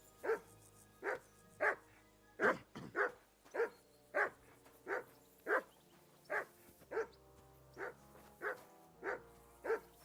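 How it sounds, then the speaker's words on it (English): A dog barks repeatedly in the Kingdom Come: Deliverance 2 video game, a steady run of about fifteen loud, close barks spaced roughly evenly over the whole stretch, with no talking. "Henry, call off that damn dog before he wolfs down the last of our mates"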